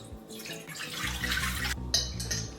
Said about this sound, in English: Start out with a bit of water here. We can pour this into the pan.